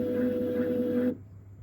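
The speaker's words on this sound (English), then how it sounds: "Now the stepper will start for the third time." The stepper motor of a Mastertronic device runs with a steady, tonal whine and hum for about a second, then cuts off abruptly, leaving faint room noise.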